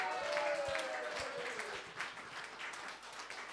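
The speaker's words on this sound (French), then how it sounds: "On lui donne une bonne main d'applaudissement quand même!" A theatre audience at a live show applauds, a dense, crackling patter of many hands clapping at a steady level throughout, with a thin whistle-like tone briefly rising over it near the start.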